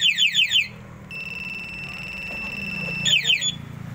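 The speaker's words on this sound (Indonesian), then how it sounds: "Pag may gumalaw, mag-a-alarm." A two-way alarm on a Honda Click 125 motorcycle gives off rapid, high chirping bursts, a burst at the start and another near the end, with a steady electronic tone between them and voices talking underneath.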